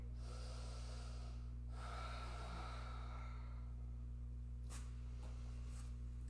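Two slow, deep breaths are drawn in and let out near the microphone during a quiet yoga pose. A couple of faint soft clicks follow at the end, over a steady low hum.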